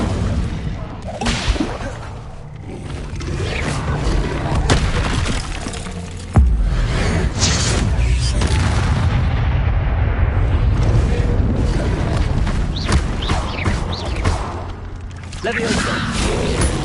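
Fire spell blast effects in a wizard video game, repeated whooshing, crackling bursts with a sharp explosive crack, dense and loud over continuous game noise, with voices talking throughout.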